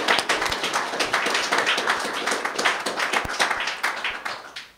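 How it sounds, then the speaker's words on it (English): An audience claps for a speaker at a live storytelling event, a fairly sparse, moderate round of individual hand claps with distinct sharp hits rather than a dense roar. "So let's give a big round of applause for Regina Willett."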